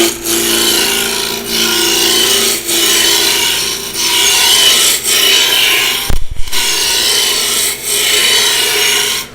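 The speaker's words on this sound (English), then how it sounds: "all I'm going to do is make a series of roughing cuts with my roughing gouge" Roughing gouge cutting into spinning oak on a wood lathe running around 1200 RPM, a loud, harsh continuous scraping roar in repeated pulses, with a brief break near the end and no talk.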